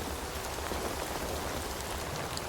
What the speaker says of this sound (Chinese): 如此大雨